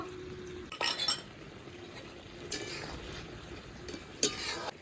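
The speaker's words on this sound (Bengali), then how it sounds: "ভালো করে মিশিয়ে এবার নামিয়ে নেব" A spoon stirs cumin powder into a cooked pabda fish and brinjal curry in a pan, giving a few scattered clinks and scrapes against the metal over a quiet background, with no talking.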